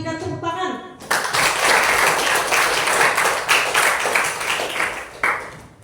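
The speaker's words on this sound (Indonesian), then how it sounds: "mari kita berikan tepuk tangan" Children in a classroom clap together as a group, loud, dense applause starting abruptly after about a second of a teacher's voice and continuing steadily, with a few children's voices mixed in.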